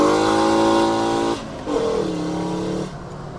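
A five-cylinder engine in a Mk2 VW Golf GTI roars loudly as it accelerates, with the pitch climbing, dropping sharply at a rough 2-3 gear change, then climbing again before another shift.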